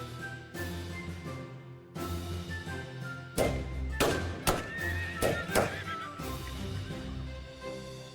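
Horses in the FreeCol strategy game give several sharp whinnies and neighs. Dull thumps and hoof-like clops are mixed in over a steady low game background, with bursts clustered in the middle.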